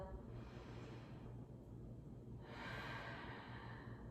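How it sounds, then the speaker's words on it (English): A person takes a slow, deep inhale and then a long exhale, the breaths soft and close, with a quiet airy rush on each draw and release. "So take a deep inhale and exhale."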